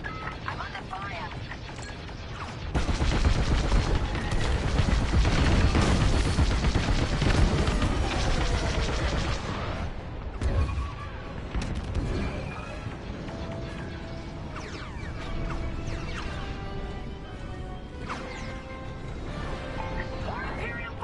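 Blaster fire crackles in rapid bursts during a Star Wars Squadrons space dogfight against Imperial TIE fighters, loud and dense for a stretch, then sparser shots over a lingering engine and effects wash, with voices in the mix.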